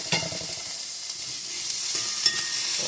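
Vegetables for tofu fried rice cooking down in a pan, a close, steady sizzle with a few soft clinks and scrapes of stirring.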